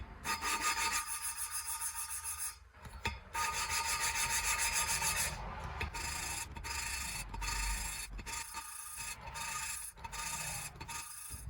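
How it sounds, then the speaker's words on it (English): An engine valve from a 1975 Triumph TR6 head is lapped against its seat with grinding compound, giving close, rhythmic gritty rubbing strokes back and forth with brief pauses between bursts. "it goes really rough because the grinding compound is still rough, but as you keep moving, the valve pushes it out a little bit"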